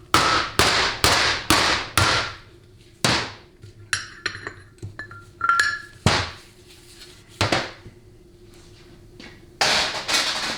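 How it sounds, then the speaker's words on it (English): Sharp metallic hammer blows punching out the rear bushing of a 700R4 transmission, a quick run of five close strikes, then scattered single hits with light clinks and tool handling between them, loud and near with no talk. "for the rear bushing, you just punch it out in the same position."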